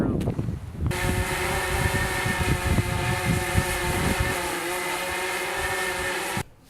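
A DJI Phantom 3 Pro drone flies on a windy day, its steady high motor whine accompanied by rough, gusty wind buffeting, continuous and fairly loud before cutting off abruptly.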